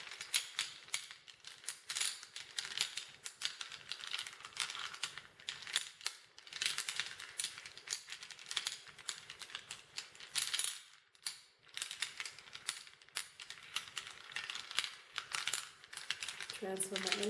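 Reading stones are shuffled by hand, hard little stones clicking and clattering in dense rattling bursts with short pauses, close up.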